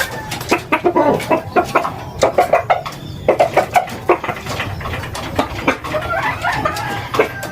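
Gamefowl chickens of a White Hatch over Gilmore Hatch cross cluck loudly and close up in a quick, uneven stream of short calls, with no speech over them.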